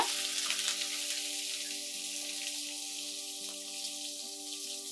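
Sliced onions fry in oil in a pan with a steady, close sizzle and bubbling hiss that stays even throughout, while a constant low hum runs beneath it and no one speaks.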